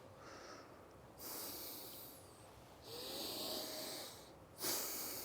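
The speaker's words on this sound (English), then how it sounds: "Slow inhalation through the nose, even slower exhalation out." Slow, deliberate breathing during recovery between pistol squats, several long airy breaths in through the nose and out, close and hissing with pauses between them.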